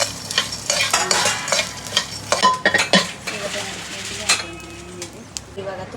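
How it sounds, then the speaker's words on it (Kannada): Poppy seeds fry in ghee in a pan while a spoon stirs them, giving a close, rhythmic run of metallic scrapes and clinks over a light sizzle. "ಇವಾಗ ತುಪ್ಪಕ್ಕೆ ಕಸ್ಕಸ್ ಹಾಕಿ ಫ್ರೈ ಮಾಡಿ"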